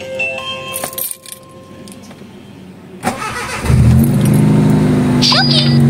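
A Honda Civic engine is cranked and catches in a cold start about three seconds in, then settles into a steady, loud idle hum. Brief rustles, faint talk and key-like jingles come before it.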